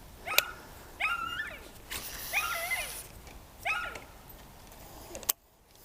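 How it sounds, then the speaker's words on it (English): A loud dog barks in repeated bursts beside a canal with lily pads and cabbages on the surface, four or five sharp barks spaced about a second apart, close and carrying over light outdoor background noise. "We've got a loud dog."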